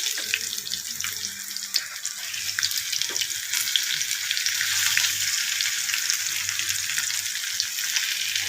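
Peanut cutlets fry in a pan, a bright continuous sizzle crackling with small pops, growing slightly fuller midway and continuing steadily without speech.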